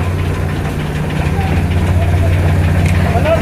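A motorcycle engine idles steadily while the bike is boarded onto a Montenegro Lines ferry on the way to Puerto Galera, Oriental Mindoro; a continuous low rumble runs throughout amid loud surrounding noise and some voices.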